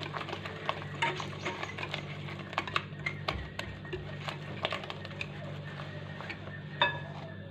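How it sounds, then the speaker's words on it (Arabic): A spoon stirs msemen dough ingredients with a small spoonful of salt in a bowl, making soft scraping and light clinking against the bowl in a steady irregular rhythm, close and quiet over a low hum. "غادي نحركهم في المكونات مزيان"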